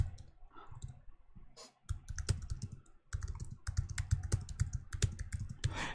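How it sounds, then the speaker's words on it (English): Typing on a computer keyboard while searching how to get a Google blog ID, a steady run of close, crisp key clicks with brief pauses and bursts, no voices. "you can simply type how to get Google blog ID"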